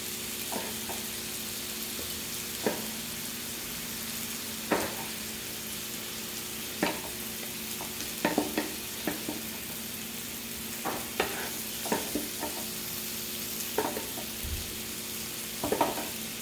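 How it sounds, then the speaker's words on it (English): Kabocha squash and shrimp stirred in a pot, with scattered soft scraping and clinking strokes over a steady low sizzle, close and moderately quiet with no talking. "I'm just going to stir it around just a little bit more and take it out of the pot"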